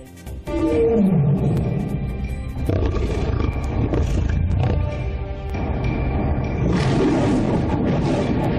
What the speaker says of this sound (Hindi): दुनिया ने सुनी भारत के शेर की दहाड़।